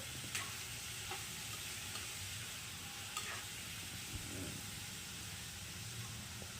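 Chopped tomatoes sauté lightly in a pan for a tomato white kurma, giving a soft, steady sizzle with faint occasional stirring clicks and no talking.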